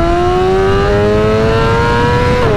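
A 2025 BMW S1000RR motorcycle running an E85 tune accelerates hard in a quick pull, its engine note loud, close and steadily climbing in pitch before a shift near the end.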